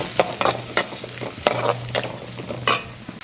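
Small onions, about 50 grams, stirred and frying in a pan for radish chutney: close scraping stirs at irregular intervals over a soft steady sizzle, with no talking.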